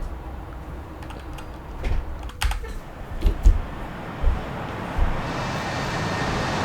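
Computer keyboard keys pressed during a flight-simulator session for an F-4E Phantom, with a handful of separate, fairly soft taps spread over a steady background hum.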